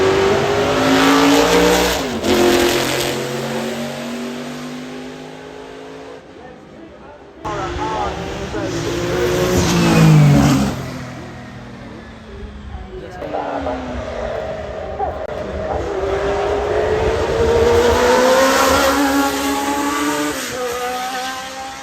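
A naturally aspirated race car accelerates hard at the Goodwood Festival of Speed, its engine note climbing through repeated upshifts and swelling loud as it passes close by, with crowd noise and a voice underneath.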